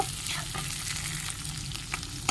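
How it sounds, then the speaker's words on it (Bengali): Onions sizzle steadily in hot oil while being stirred for ghugni, a continuous close frying hiss with scraping strokes and small pops, no talking. "তেলটাকে দিয়ে পেঁয়াজটাকে ভালোভাবে একটু নাড়াচাড়া করে নেব বা ভেজে নেব"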